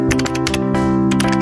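Rapid computer keyboard typing in an office, a dense run of close, crisp key clicks heard alone with a steady hum beneath.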